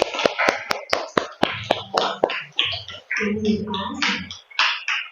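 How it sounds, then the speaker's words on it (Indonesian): Children in an elementary school classroom clap in a quick, even run of about eight sharp claps, then voices chant and sing softly in a group. "Ya, tepuk tangan."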